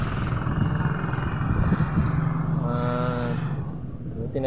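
A tricycle passes along a street outside, its motor droning steadily under wind noise, swelling nearby and then fading as it goes by.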